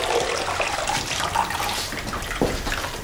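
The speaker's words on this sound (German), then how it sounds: "Mit heißem Wasser werden die Hühner abgebrüht, damit sie sich leichter rupfen lassen." Hot water poured over chickens in a laundry room to scald them for plucking, a steady splashing gush with sloshing, moderately near and alone.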